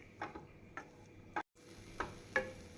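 Sweet corn stirred and fried in butter in a pan gives a handful of faint, crisp spoon clicks and taps spaced apart over a quiet, low sizzle.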